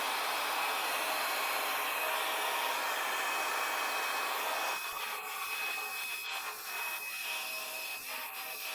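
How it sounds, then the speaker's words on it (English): A hair dryer blows steadily on epoxy resin with a loud, airy hiss, then shifts slightly softer as light rubbing and tapping sounds join in. "Remove the hairdryer further away so that the flow was not strong."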